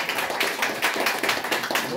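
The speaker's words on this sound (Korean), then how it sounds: "박수가 너무 작아요" A modest, fairly thin round of clapping from the audience at a monthly meeting of a national actors' association, keeping up steadily for two seconds while voices mix in.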